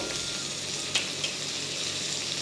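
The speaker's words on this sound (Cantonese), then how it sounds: "大約煎到80熟" Prawns fry gently in a pan over moderate heat with a constant soft sizzle and a couple of faint ticks.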